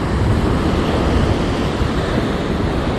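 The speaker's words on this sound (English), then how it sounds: "Waves are bigger there, but there's much more timing between them." Surf rumbles and washes in a continuous roar, heavy and low, mixed with gusty wind buffeting the microphone, at a boat launch through white water.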